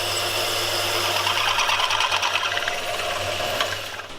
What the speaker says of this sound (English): Pitch of the drill sound soon, the noise it makes as it goes through to the end.